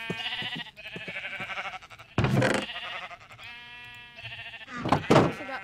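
Minecraft sheep bleat again and again at close range, a few short cries broken by brief thuds and gaps, with no talking.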